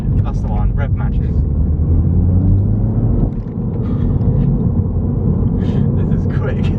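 A Mini Cooper S engine blips its revs as the automatic gearbox downshifts, giving a loud, steady low rumble heard from inside the car with voices talking over it.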